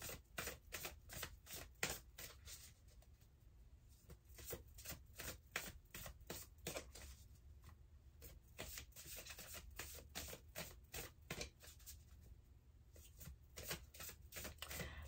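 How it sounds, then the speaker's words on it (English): Tarot cards riffle and slap in quick rhythmic bursts, a deck being shuffled repeatedly up close, soft and alone without any voices. "going ahead and splitting the deck with a little shuffle"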